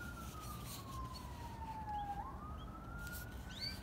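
An emergency vehicle siren wails outdoors about a block from a hospital, a distant falling and rising tone sweeping over steady traffic-like background noise.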